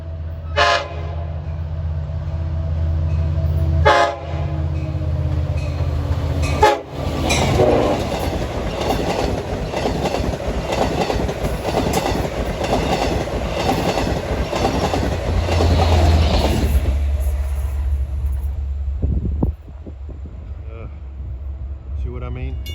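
Westbound Montauk passenger train of eight cars passes close by on a summer Sunday evening, announcing itself with short horn blasts before a long, loud rumble and wheel clatter that cuts off sharply as the last car clears.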